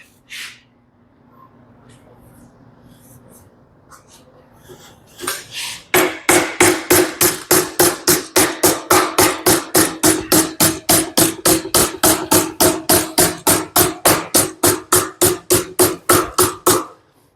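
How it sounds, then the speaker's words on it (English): A hand hammer stretches steel for a hand-made fender skirt on a 1935 Ford Coupe. After a quiet start, a steady, rapid run of sharp metallic blows sounds close up, about three dozen strikes in even rhythm. "Now I'm hitting at the bottom more on the edge of the hammer here, so I'm going to stretch that metal out."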